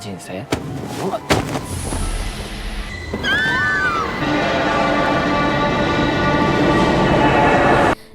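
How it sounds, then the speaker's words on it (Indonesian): A train rushes past close by, with a loud steady roar, squealing wheels and a rising metallic whine that builds toward the end. "sebuah kereta yang melaju kencang tampak akan menabraknya"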